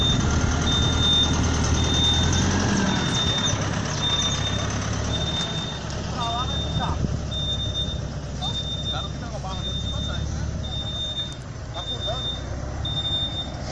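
A tow truck's reversing alarm beeps steadily and evenly throughout while recovering an overturned Toyota Hilux, heard amid a rumbling engine and outdoor noise, with some distant voices.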